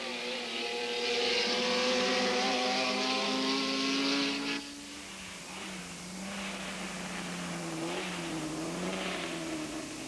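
Vintage racing cars, among them a Lotus Seven, an MGA and a Porsche, roar past at a Grand Prix de l'Age d'Or event in 1990, with a loud sustained engine note that drops in pitch as one passes, then further engines fade.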